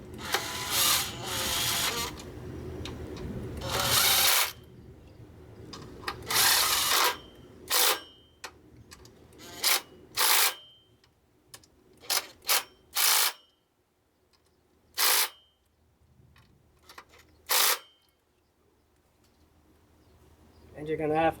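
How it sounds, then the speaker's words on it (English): Ratcheting on the 10mm bolts of a belt tensioner on a 1997–2004 Ford F150, heard as bursts of clicking in separate spells, close and fairly loud, with quiet mechanical shuffling between them. "Snug up the bolts."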